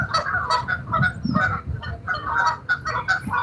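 A flock of geese honks loudly and continuously close by at a fishing spot, with overlapping nasal calls repeating in quick succession.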